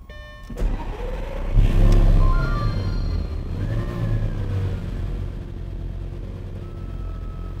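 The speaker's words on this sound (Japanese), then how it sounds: "ではエンジン始動していきます。" A 2008 Lamborghini Gallardo Superleggera engine cranks and fires up with a loud rev, then settles into a steady, rumbling idle close by.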